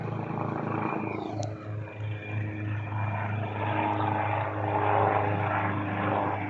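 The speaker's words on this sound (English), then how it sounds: "Damned helicopter." Helicopter passing overhead, a steady droning rotor and engine hum that stays fairly loud throughout, with a faint rise near the end.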